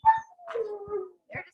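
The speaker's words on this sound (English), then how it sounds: "Oh. Big dog." A dog at kennels whimpers close by in a few short, high, whining cries with a falling pitch, with no other sounds around it.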